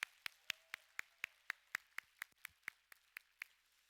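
A lone person claps in a slow, even rhythm at a Korean church's New Year's Eve service, about a dozen sharp, close hand claps welcoming first-time visitors, with a faint voice briefly underneath.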